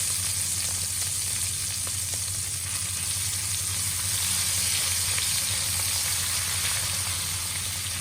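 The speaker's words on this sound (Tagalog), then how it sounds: "ilalagay natin ang ating home cooked na chili paste" Home-cooked chili paste frying in a pan for spicy chicken pastil, giving a steady, close, continuous sizzle with a low hum underneath and no pauses.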